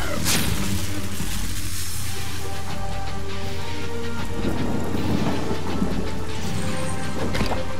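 A lightning spell strikes in the fantasy role-playing game Divinity: Original Sin with a loud, sustained thunderous crackle and rumble, heard over rain-like wash for several seconds with no gaps.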